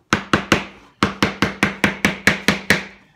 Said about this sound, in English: We need to get our block again with the hammer.